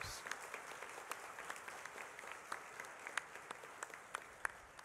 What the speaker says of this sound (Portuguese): Uma bonita salva de palmas à palavra de Deus.